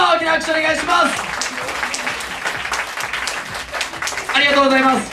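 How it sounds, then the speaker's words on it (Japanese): An audience at a beatbox battle championship claps loudly to vote for a contestant, dense applause with crowd noise and a sustained musical tone underneath. "まずは先行のガシ AK 佐賀で上がった人、大きな拍手お願いします。"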